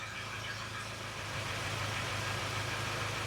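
A 2021 Kia Sorento engine idling after running a couple of minutes, awaiting transmission oil pump work: a steady, even hum and whir with a slight rise partway, no talk.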